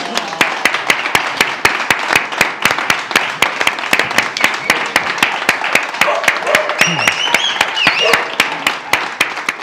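Audience clapping in a steady, rhythmic beat after a Basque song on an outing to Itzina and Gorbea, sharp regular claps close by with voices calling out over them.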